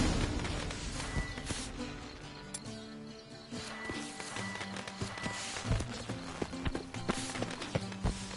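Horse hooves clip-clopping in The Witcher 3 Next Gen on PS5, a steady trot of hoofbeats over ambient game music, with occasional sharper impacts and no talk.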